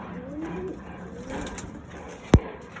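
Madras pigeons in a loft give low, soft coos under light background murmur and rustling, ending with a sharp close knock or thump near the end.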